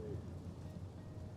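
In Life is Strange: Double Exposure, a storm gives a steady low rumble of thunder under soft, continuous rain. It is faint and short.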